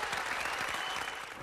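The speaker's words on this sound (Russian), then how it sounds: "ваши аплодисменты." Steady, dense applause from a show audience after a laser harp performance, a continuous wash of many hands clapping at close range with no speech over it.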